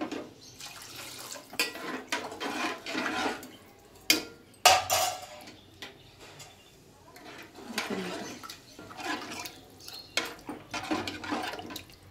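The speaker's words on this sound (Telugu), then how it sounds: "ఎంత కావాలనుకుంటే అన్ని వాటర్ పోసుకొని మనం పిండి అంతా కలుపుకోవాలి." Water is poured into gram flour (besan) and the batter is mixed by hand for a chutney-style curry served with dosa, heard close as intermittent splashing and stirring bursts with short pauses and no talking.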